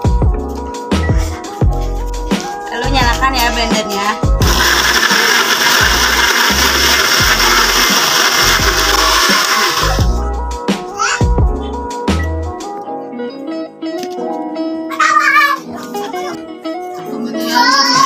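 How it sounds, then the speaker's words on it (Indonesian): A blender whirs steadily for about six seconds while mango juice is made with sugar and water in a school chemistry practical on colloids, with clattering handling noises and brief music-like tones before and after. "Lalu nyalakan ya blendernya."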